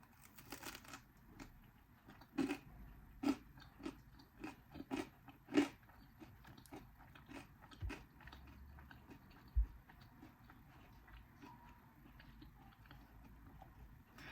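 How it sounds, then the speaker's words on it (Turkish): Crunchy bread is chewed close up in quiet surroundings, with a series of short, crisp crunches at an irregular pace. "Ekmek kıtır kıtır çok seviyorum."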